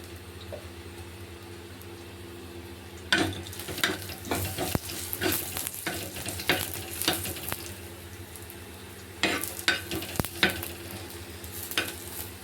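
Onion frying in a pan with coriander and whole spices added for a karela and chana dal dish, giving a steady sizzle broken by loud scraping stirs and clatters in bursts.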